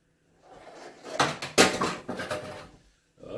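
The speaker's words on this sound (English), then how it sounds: "Oh, I've got stuff falling in the sink." Several items clatter and knock into a kitchen sink while venison stew is being made in a crockpot, with a series of close, irregular thumps and bumps that taper into short quiet gaps.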